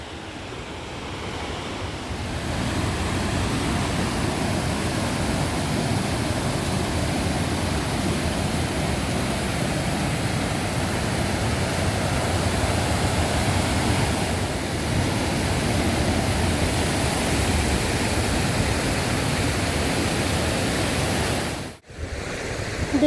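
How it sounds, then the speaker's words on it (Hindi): A loud, continuous roar of rushing glacier meltwater fills the whole clip, broad and unbroken like a fast stream close by, in the Valley of Flowers. "आ गए हम ग्लेशियर के पानी के पास। यहाँ पे जो इतना ज़्यादा शोर आ रहा है आपको सुनाई दे रहा होगा,"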